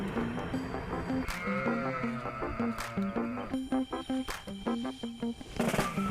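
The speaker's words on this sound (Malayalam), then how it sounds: "ആടുകൾ മിക്കവയും ചെമ്മരിയാടുകളാണ്" Sheep on a farm in Al-Ula, Saudi Arabia, bleat repeatedly in short wavering calls, several animals overlapping at a steady pace, fairly close and clear with a faint background hum.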